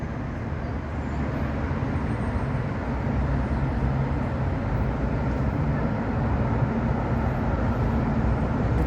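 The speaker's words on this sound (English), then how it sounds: "The tram is going." A tram passes through a Budapest town center with a steady rumbling roar of rail and street noise that swells slightly midway, continuous throughout.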